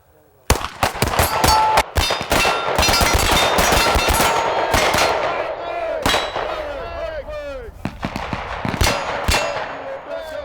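Rapid, irregular bursts of loud close gunfire from several shooters during a range training drill, shots overlapping with clanging brass and ringing echoes, with shouted commands in between.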